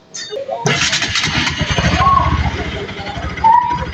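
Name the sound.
Bajaj NS200 FI motorcycle engine starting and running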